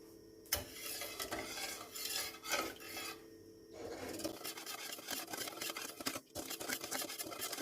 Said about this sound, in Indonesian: Jangan lupa sambil diaduk-aduk terus ya, supaya bawahnya tidak menempel atau gosong.